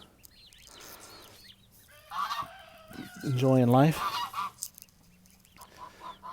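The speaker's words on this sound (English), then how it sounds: "some crested ducks and a black African goose" A black African goose honks loudly in a short burst of repeated calls on a homestead, with crested ducks and other fowl nearby, over a soft outdoor background and a brief spoken voice.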